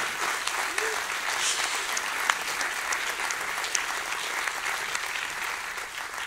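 Crowd at a launch event applauds in a steady, fairly loud ongoing round of clapping, with a faint cheer early and scattered sharper claps.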